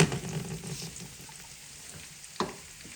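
Ground spices frying in a hot pan for a Parsi lamb dhansak, giving a soft, steady sizzle with light scraping as they are stirred, close and fairly quiet, with one brief sharper clatter near the end.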